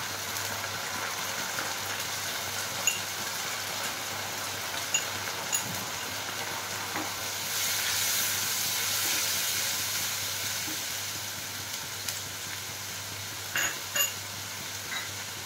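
Ground cumin paste frying in a pan with ginger paste, giving a steady, close sizzling hiss that swells midway, with a few sharp taps and scrapes as it is stirred.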